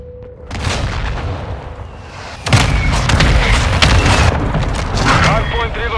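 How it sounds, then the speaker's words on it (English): Mortar fire and explosions in a PlayStation 4 military shooter, with a quieter opening giving way at about two and a half seconds to loud, sustained booming and crackling blasts, with voices over the top. "Hostile mortar in the area."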